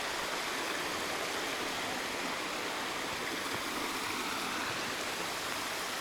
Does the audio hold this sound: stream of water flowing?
yes